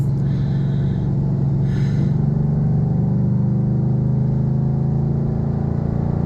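Steady low droning engine and road roar from inside a 2012 Ford Mustang Boss 302 cruising on a highway, constant and loud with a faint brief breathy sound early on.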